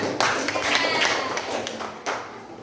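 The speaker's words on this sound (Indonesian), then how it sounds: "Betul, tepuk tangan." Classroom clapping during a lesson, a short burst of many small hands patting together fairly close by, with a brief dip near two seconds before resuming.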